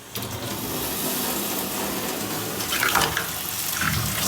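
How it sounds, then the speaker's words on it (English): Water from a well gushes from a hose and splashes forcefully under high pressure in a steady, loud rush with no talking. "Check this out. Water. And not just a little water."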